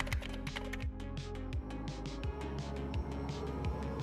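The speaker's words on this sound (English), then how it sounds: "Type in your password." Fingers tap out a password on a laptop keyboard in a quick, irregular run of soft clicks, faint and close, with no talk.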